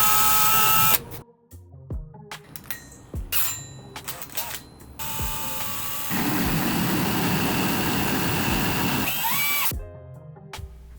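A power drill bores a hole through the center of a dome for a DIY faux cement dining light, whirring in several short bursts and then one long steady run, loud and close.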